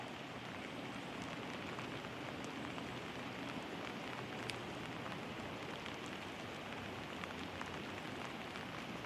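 Steady rain falls on a boat during coho salmon fishing, a dense continuous hiss of drops on surfaces with occasional louder individual patters, no voices.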